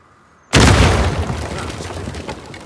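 A door blown open by an explosion in the video game Uncharted 4: one sudden loud boom that lands hard and then trails into a long, rumbling, debris-filled decay, heard alone with no talking.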